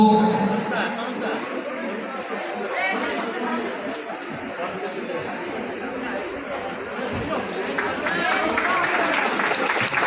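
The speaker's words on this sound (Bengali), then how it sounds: "একটু জোরসে হাততালি" Crowd chatter and an amplified voice fill a hall at a ceremony handing computers to tribal students in Sandeshkhali, with scattered clapping that swells into fuller applause toward the end.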